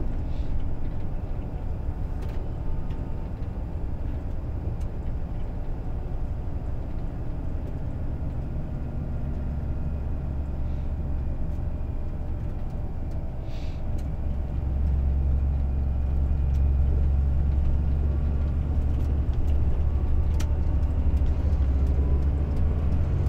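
A car drives straight along Krakowska street toward the city centre on a learner's exam-route lesson, its steady engine and road rumble filling the cabin continuously, growing slightly heavier and louder in the second half.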